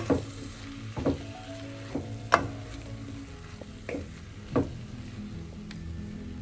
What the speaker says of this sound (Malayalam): ഈ സമയം നമുക്ക് അരിഞ്ഞ് വെച്ചിരിക്കുന്ന തക്കാളി ചേർക്കാം. അതും ഇതോടൊപ്പം ഒന്ന് മിക്സ് ചെയ്യാം.